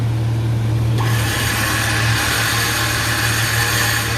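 A winch spools in wet cable, producing a steady, loud motor whine with a low drone that shifts pitch slightly about a second in, then runs on evenly up close with no voices.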